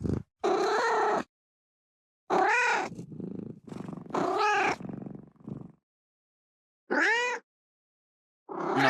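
A cartoonish cat character from the game Arknights lets out a series of voiced meows, some drawn out and wavering, in separate bursts with short silences between them; no one talks.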